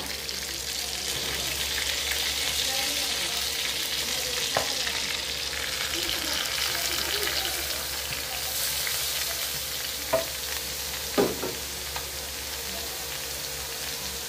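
Papaya stirred in a hot frying pan for eskabetse, a loud, continuous close sizzle with a few faint scrapes and taps of the spoon against the pan.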